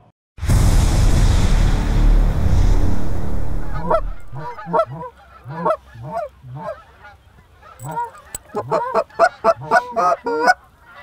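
Goose calls from a hunting setup imitating a gander-goose pair out in the field, a sequence of sharp, honking clucks and moans in quick rhythmic bursts, close and loud after a brief rush of wind noise.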